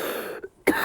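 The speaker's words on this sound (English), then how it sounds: "like this cough." A single short cough, one close throat-clearing burst.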